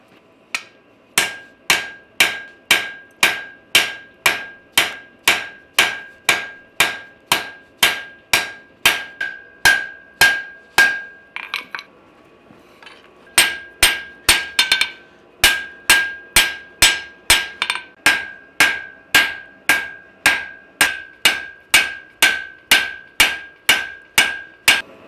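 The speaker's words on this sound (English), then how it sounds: "get this forged out and move as much material as possible, as quickly as possible" A blacksmith hammers steel while forging a knife blade: dozens of sharp, ringing metallic blows in a steady fast rhythm, loud and close, with one brief pause partway through before the strikes resume.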